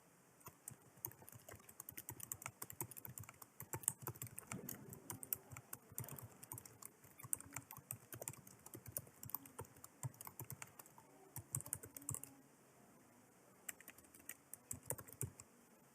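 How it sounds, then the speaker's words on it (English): Steady computer keyboard typing as a wallet seed phrase is entered, a continuous stream of light, close key clicks with short pauses and a constant faint background hiss. "So you'll just type in the seed."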